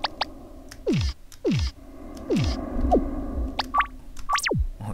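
Ao Oni horror game effects: a series of short descending synthetic swoops and chirps, with a few brief higher blips and clicks, over a faint ambient hum.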